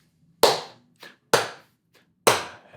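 Sharp hand claps ring out close by in a lopsided klezmer bulgar rhythm: three loud claps with softer, quicker taps between them.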